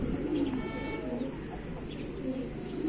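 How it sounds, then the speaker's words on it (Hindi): Pigeons that have just bathed coo softly on a rooftop loft, low repeated murmuring calls with a few faint chirps over steady background hum, fairly close and quiet. "सारे कबूतरों ने नहा लिया है आज"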